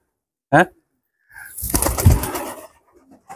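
Pigeons on a farm give a single short coo, then a louder stretch of rustling, fluttering noise follows close by.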